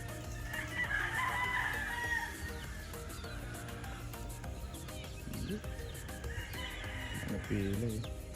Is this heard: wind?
no